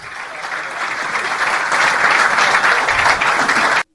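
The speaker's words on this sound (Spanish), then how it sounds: "Claro, aplausos." An auditorium full of journalists and media workers breaks into applause for Marcelo Bielsa, a full sustained clapping that swells steadily and then cuts off abruptly.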